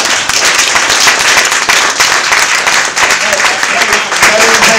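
An audience at a film premiere and Q&A at the BFI bursts into loud, sustained applause, dense clapping from a full room that continues unbroken, with voices faintly mixed in.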